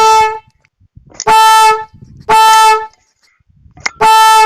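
A homemade big horn meant to scare off monkeys blares in three loud, sustained harmonic blasts, each about a second long, with short gaps of faint background noise and a brief voice between them.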